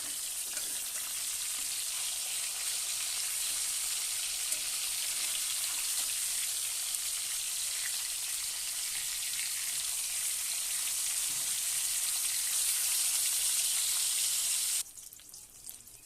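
A turned-over piece of salted, turmeric-coated catla fish fries in hot oil with a constant, close, hissing sizzle and faint crackles. The sizzle cuts off abruptly just before the end.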